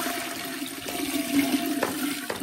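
Water is poured into a cooking pot set on a village stove, a continuous splashing, gurgling stream close by that swells and dips for a couple of seconds with no talking.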